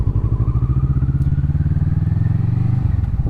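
A Kawasaki Vulcan S motorcycle rumbles along on a ride, its low engine note pulsing steadily and close, rising slightly in pitch partway through, with faint wind noise and no speech.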